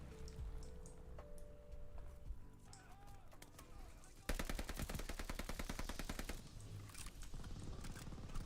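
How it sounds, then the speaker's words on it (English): A Type 99 gun fires in rapid automatic bursts in a video game, dense and loud in the second half after quieter game sounds, with a voice talking now and then. "I'm like popping off with this thing. What is it? Type 99. I have never seen this gun before."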